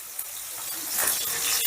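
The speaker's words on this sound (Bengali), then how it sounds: "মাছগুলোকে কিন্তু একটু কড়া করেই ভেজে নিতে হবে" Fish pieces fry in hot oil in a home kitchen, a steady bright sizzle and crackle that swells slightly near the end, close and continuous with no talking.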